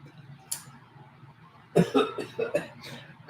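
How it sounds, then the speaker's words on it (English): A few harsh coughs in quick succession, close and fairly quiet, after a short pause with a brief breath-like sound. "have this horrible cough."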